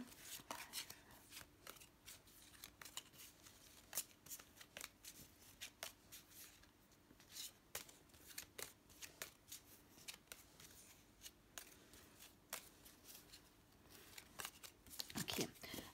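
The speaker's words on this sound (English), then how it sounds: "So, I'm drawing 18 cards." Tarot cards being drawn and handled, with soft repeated shuffling and flicking close by, quiet scrapes and taps spread across the whole stretch, ending in a brief louder rustle.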